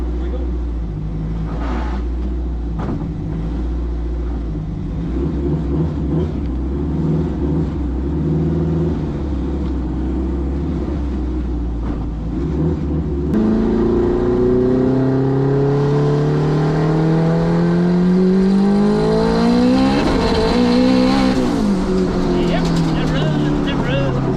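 A modified four-cylinder Honda Civic accelerates hard, its engine note climbing steadily through the gears and growing louder and more strained toward the end, with people talking inside the car.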